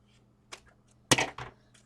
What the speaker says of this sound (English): I have a pair of scissors.